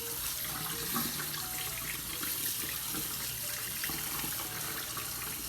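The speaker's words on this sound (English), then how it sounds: "all that you're going to do is just give them a light rinse." Vegetables being given a light rinse under a running kitchen faucet for chili, a steady, continuous splashing hiss of tap water into a sink, close and even throughout.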